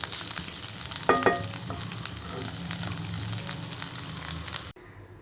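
Chicken liver pepper fry sizzles steadily in a pan with a dense, close hiss, a few clinks of a spoon early on, then it cuts off to near quiet at the end.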